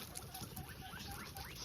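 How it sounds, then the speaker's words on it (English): A group of about forty guinea pigs on a farm gives soft, quick rising squeaks over a quiet shuffling background, faint and fairly close. "40 guinea pigs,"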